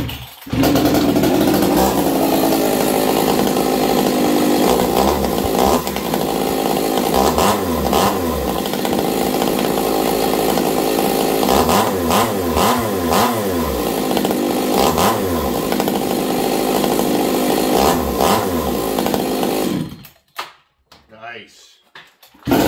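A 371xp chainsaw engine, run after sitting unused, roars loud and close for about twenty seconds with repeated revving surges, then cuts off into near silence.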